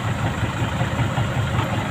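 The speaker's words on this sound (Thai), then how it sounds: "โอ้รถไถครับ" A tractor engine idles while standing in water, giving a continuous loud, low rumble with even vibration throughout and no talk over it.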